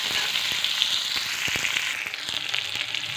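Large-cut chopped onion frying in hot oil in a pan, a soft steady sizzle with light crackles and faint ticks from stirring, close and fairly quiet.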